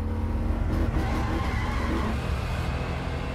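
Car engine in the video game Encased revving hard under acceleration, a loud continuous roar with tire-like skidding noise and no talk over it.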